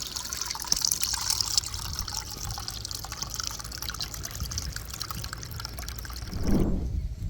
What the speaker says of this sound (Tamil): இதில் கொட்டை கட்ட எதுவுமே இல்லாமல் அப்படியே வடிகட்டிக்கு போகிறேன் வடிகட்டி பியூர் ஜூஸ் எடுக்க போகிறோம்